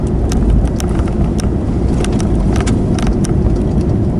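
A vehicle drives on the road to the Arctic Circle in Alaska, heard as a steady, loud engine and road roar with wind buffeting close to the microphone throughout.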